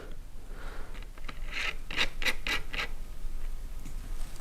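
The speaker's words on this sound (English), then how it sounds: "I'm gonna try to get this jam nut on there" A metal jam nut is threaded on and tightened, a series of short scraping clicks and rasps clustered in the middle, close and moderately loud over faint background hiss.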